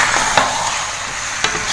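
Free-range chicken for rica-rica is stir-fried in spice paste in a hot pan, giving a steady close hiss of sizzling with two brief louder clinks or stirs.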